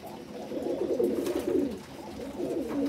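A racing pigeon with a damaged nose coos continuously in low, throaty rolling phrases, close and fairly loud, with no voices over it.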